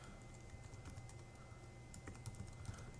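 Fingers typing an email address on a computer keyboard, a quick run of light, close key clicks with a few sharper taps near the end, no voices.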